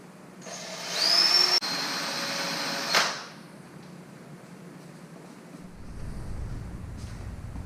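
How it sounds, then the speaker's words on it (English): A power drill whines at high speed for about two seconds while boring a 5/32-inch hole in a Smart 453 Cabrio, rising then cutting off sharply, followed by a low background rumble. "The instructions said to drill a 5/32 hole."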